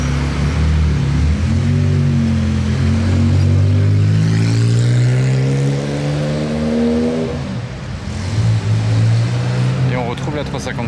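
A Ferrari 355 passing on a street lined with valet-parked cars in the evening, its engine note rising and falling through revs, loud and close, before receding.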